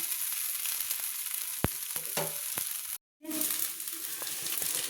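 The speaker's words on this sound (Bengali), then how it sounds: "সাইড থেকে তেল ছড়িয়ে দিচ্ছি" A breakfast flatbread frying in oil gives off a steady sizzle with a few utensil clicks. The sizzle cuts out briefly for a moment, then returns just as strong.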